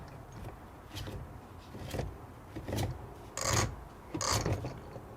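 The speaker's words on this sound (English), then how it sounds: "you put a screwdriver in there and you turn this clockwise, and it's going to screw off" A screwdriver turns to unscrew the Speedfeed head on an ECHO string trimmer, giving four or five short raspy scraping bursts with brief pauses between them, close up and fairly quiet, with no talking.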